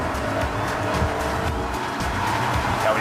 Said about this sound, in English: this engine is a screamer, highest revving engine BMW has ever sold